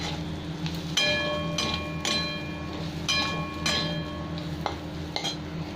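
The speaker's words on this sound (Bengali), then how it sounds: "এবারে 1-2 মিনিট নাড়াচাড়া করে নেবো" A utensil stirs spices with pointed gourd in a metal pan, making repeated ringing metallic clinks roughly every half second to second over a low steady background hum.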